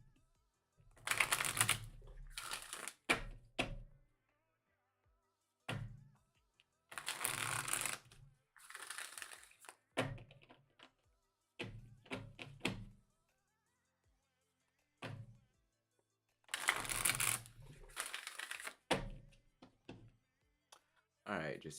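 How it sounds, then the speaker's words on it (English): A deck of tarot cards is shuffled again and again: quick, crisp riffling bursts of a second or two, separated by pauses and soft taps, close up. "Just give it a nice few more shuffles."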